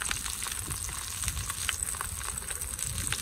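Beef ribs browning in a camp oven give off a steady, close sizzle that holds even from start to finish, with no talk over it.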